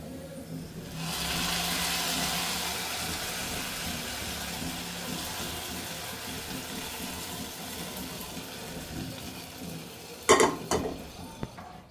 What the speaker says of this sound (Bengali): ফোড়নের জন্য আমি 2টা শুকনো মরিচ দিলাম, সেই সাথে কিছু রসুন কুচি, এখন দিয়ে দিচ্ছি হচ্ছে পেঁয়াজ কুচি